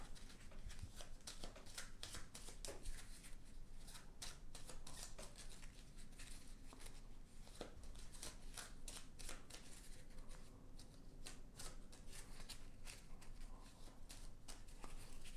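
During a game of Burgle Bros, a deck of cards is shuffled at close range in quick, repeated riffles and flicks of crisp card snaps, continuing steadily at low volume with no voices.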